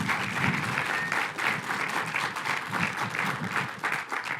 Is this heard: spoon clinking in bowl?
no